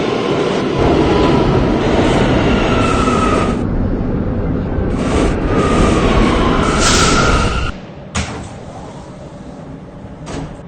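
An R179 subway car on a New York City K train runs with a loud, steady rumble that fades as it slows, followed by sharp bangs and clunks like doors closing.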